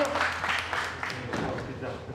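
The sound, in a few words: burger contest participants applauding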